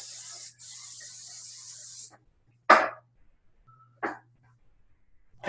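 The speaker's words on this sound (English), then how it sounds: "Take your 2 springform pans, give those a good spray." Cooking spray hisses from an aerosol can onto two springform pans, first a short burst, then a brief pause and a longer steady spray of about a second and a half, all close and loud.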